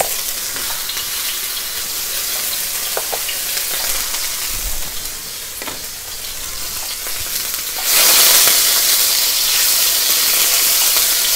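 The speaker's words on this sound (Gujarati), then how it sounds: "ઓલિવ ઓઇલમાં આપણું ફાઇન ગરમ થઈ ગયું છે એટલે હવે હું એની અંદર આપણું લસણ આદું નાખી દઈશ" Garlic and ginger fry in hot olive oil in a wok, a loud continuous sizzle with occasional stirring clinks, swelling louder and hissier near the end.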